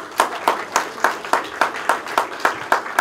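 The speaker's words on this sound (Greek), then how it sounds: "Ένα θερμό χειροκρότημα." A small audience at a Greek community evening in Melbourne claps in a slow, regular rhythm, about eleven sharp, even claps close to the microphone, with no voices.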